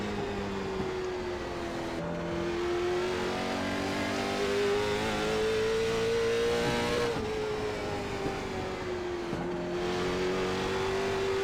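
A late model stock car engine in the iRacing video game holds a loud, sustained drone, its pitch wavering up and down with throttle and dipping briefly at a few shifts or lifts, with no talking.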